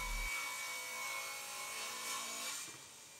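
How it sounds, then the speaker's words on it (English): A table saw rips reclaimed wood boards salvaged from a headboard and footboard, giving a steady, continuous whining cut with a sustained buzz that eases slightly near the end. "And then I get clean edges ripped at the table saw."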